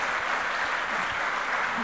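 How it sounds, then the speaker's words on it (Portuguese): A church congregation claps together in praise, producing a dense, continuous wash of applause that holds steady throughout without breaks. "dê uma salva de palmas ao Senhor"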